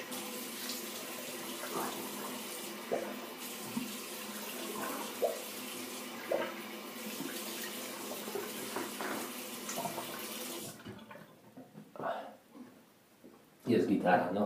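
Water running from a bathroom tap to rinse shaving soap off after a shave, a steady continuous splash that stops abruptly near the end, with a few brief clatters and another burst of water as it closes.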